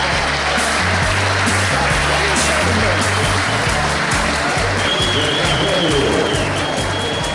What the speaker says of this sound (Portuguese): Olha, aplaudir mais forte!